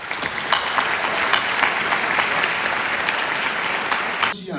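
An audience at the closing ceremony of the Fribourg International Film Festival in Switzerland applauds steadily and evenly throughout, with a voice briefly audible over the clapping.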